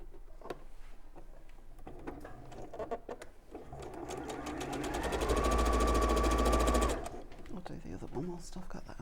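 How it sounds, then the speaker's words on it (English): A sewing machine stitches floral bag fabric pieces together along a short side. Its rapid, steady mechanical whir swells loud and close for a couple of seconds before stopping, with talk and quieter handling around it. "just sew along one of the short sides"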